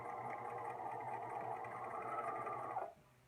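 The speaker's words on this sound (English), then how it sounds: "I'm going to backstitch. Again, I am sewing as close as I can to that bottom basted edge." A sewing machine runs steadily while backstitching a seam at a 2.5 stitch length close to a basted edge, an even mechanical whir for about three seconds before stopping, with no talking.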